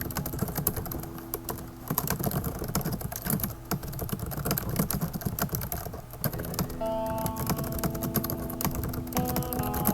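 Steady typing on a computer keyboard, with quick, close key clicks forming a continuous patter over a humming background and occasional heavier strokes like the enter key, no speech.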